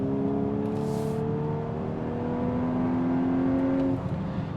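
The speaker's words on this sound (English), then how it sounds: "it makes a little bit more of kind of like a 6-cylinder sound when you are really getting on the gas" A 2024 Volkswagen Atlas six-cylinder engine hums and rises steadily in pitch as it accelerates, a smooth continuous drone heard from inside the vehicle.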